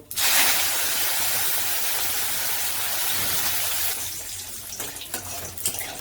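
Tap water runs steadily as bay leaves torn in half are rinsed under it in a home kitchen, a loud, even gush that softens and turns splashier near the end.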